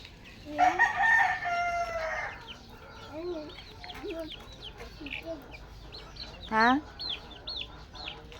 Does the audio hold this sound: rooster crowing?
yes